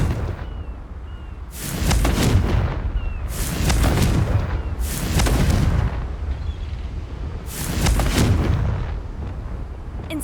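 Repeated explosive blasts from the Confringo spell in the Hogwarts Legacy game come as four heavy booming bursts at roughly even intervals. Each blast is loud and rumbling and decays slowly, with no voices.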